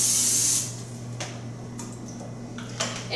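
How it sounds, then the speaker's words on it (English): Non-stick cooking spray hisses from an aerosol can onto a griddle set to 375 for infant pancakes, one loud half-second burst near the start followed by faint ticks and kitchen clatter. "So we are going to use the non-stick spray, because if you don't, it can stick to the bottom."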